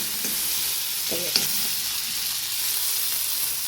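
Garlic fries in oil for a homemade tomato soup, giving a steady close sizzle with a couple of soft stirring scrapes partway through and no voices.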